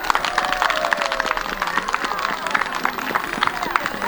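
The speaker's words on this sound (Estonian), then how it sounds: "Ja nüüd teeme aplausiga." Applause from an audience at a children's spring gymnastics festival, steady dense clapping throughout with crowd noise and a voice over it.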